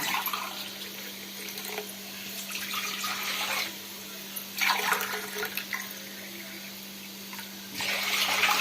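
Water pours steadily into a cooking pot in a home kitchen as part of making ragi porridge, a running, splashy flow that comes in bursts with short pauses between pourings, with no talking.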